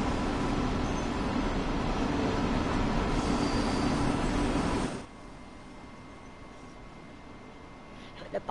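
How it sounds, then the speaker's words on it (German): A freight train rumbles steadily at a station in the Train Sim World 2 game, with faint wheel squeal, then the noise drops abruptly to a quieter hum near the end. "Steht eine Güterzug."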